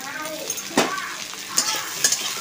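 Onions and capsicum fry in hot oil in a pan for a Bengali cauliflower and chilli dish, a steady close sizzle broken by a few louder stirring scrapes and clinks.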